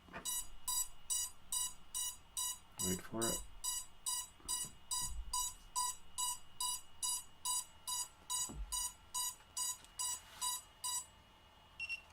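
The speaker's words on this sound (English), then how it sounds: "It should go beep beep." A rapid electronic beeping pulses in a steady repeating pattern for several seconds, with a few soft thuds and a brief spoken phrase underneath.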